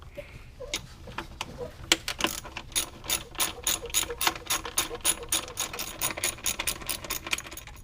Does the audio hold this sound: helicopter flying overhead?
no